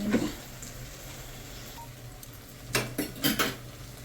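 Goat intestine gravy stirred into a thick paste in a pan, heard as a few scraping clinks of a utensil against the metal pan, brief and fairly close, bunched near the end with quiet stretches between.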